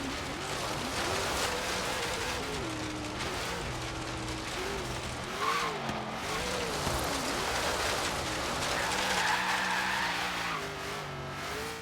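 An 800 HP Ford Falcon in Forza Horizon 3 slides and skids across a dirt road, its engine droning and wavering up and down while tires scrabble on loose gravel in a steady, loud wash of noise throughout.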